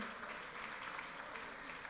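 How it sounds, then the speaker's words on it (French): An audience applauds after a round-table discussion on future agricultural machinery, producing a soft, steady wash of clapping heard from a distance. "Je vous demande de les applaudir."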